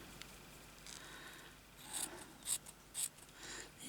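Scissors cutting up the centre of a piece of fabric, a few close, soft rasping snips and crisp scrapes in quick succession against a quiet background.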